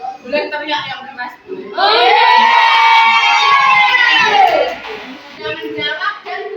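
Crowd of schoolchildren in a classroom shouting loudly together for a few seconds, after a teacher's counting and brief talk, with talk resuming afterward.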